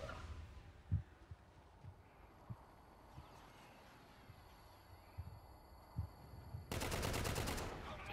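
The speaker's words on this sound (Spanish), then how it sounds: "Estás disparando" Gunfire in Call of Duty: Infinite Warfare, with scattered single muffled shots spaced through the match and then a loud sustained automatic burst near the end.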